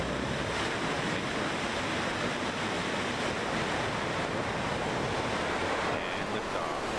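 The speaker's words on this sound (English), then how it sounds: "There you have it, a spectacular launch of New Shepard, live from West Texas." A Blue Origin New Shepard rocket lifts off in West Texas during an escape test, its engines a constant, dense roar that sounds distant and wind-like and holds steady throughout, with no talking.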